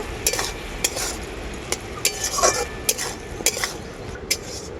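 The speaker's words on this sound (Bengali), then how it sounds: "এরপর আমি মশলাটাকে কষিয়ে নেব" Masala coloured with Kashmiri chili powder is sautéed in a pan with no onion or garlic, sharp repeated spatula scrapes and clinks over a soft continuous sizzle, close and alone.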